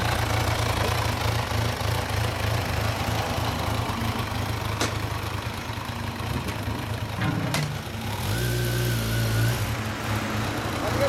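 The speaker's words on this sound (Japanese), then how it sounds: "エンジン音聞かせてもらえますか？" A stock-exhaust 2016 Kawasaki Z1000 motorcycle idles close by with a steady, low, even engine note that holds for the whole stretch without revving.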